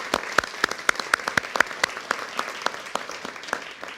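Applause from an audience at a NASA safety briefing for the 2017 total solar eclipse: sparse, sharp claps in an uneven rhythm, fairly close and moderately loud, with no talking over them.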